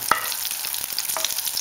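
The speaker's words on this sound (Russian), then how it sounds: "пока наше сало начало поджариваться" Cubed pork fat (salo) fries in a pan with a steady, close sizzle, broken by a few sharp crackles and a stir near the start.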